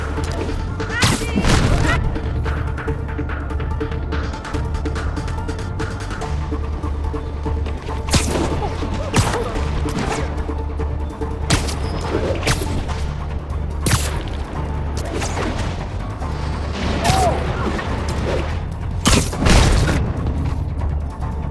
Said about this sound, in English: I've got to drop onto the street hard to generate enough force.